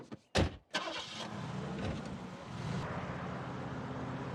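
A compact car engine starts up with a sharp burst, then settles into a steady, close running hum as it pulls away and drives off.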